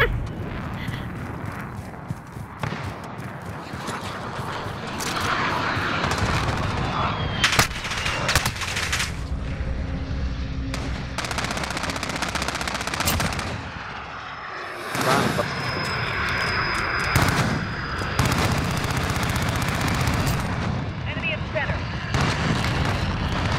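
Video game gunfire, bursts of automatic shots and single cracks crackling throughout amid loud battlefield noise, with voices talking over the combat at times.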